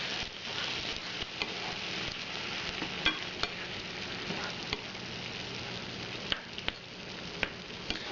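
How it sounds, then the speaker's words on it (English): Tomatoes being stirred into a sizzling onion and garlic mixture, a constant close frying hiss with occasional light spoon taps against the pan. "Time to add the tomatoes. It said sauce included. We're going to stir that up."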